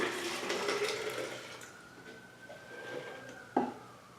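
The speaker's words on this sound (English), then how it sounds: "There's 1 quart, and we're going to pour it in" A quart of distilled vinegar glugs and trickles into a jug for homemade weed killer, a close splashing pour that thins into a faint stream, ending with a short knock.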